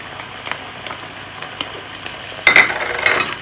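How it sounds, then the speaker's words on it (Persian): Onions frying in a pan over a high gas flame, faint scattered sizzles and clicks before a louder burst of stirring and sizzling as tomato paste goes in, with no talk. "بعد از حدوداً 10 دقیقه پیازهای ما کم کم طلایی و برشته دارن میشن. در اینجا رب رو اضافه میکنم"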